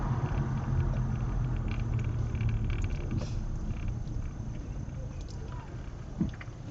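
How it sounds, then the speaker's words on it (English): Car tires rolling on tarmac, a continuous broadband road rumble and hiss heard from inside the moving car, steady and fairly loud, easing slightly toward the end with a small bump. "Tires and tarmac."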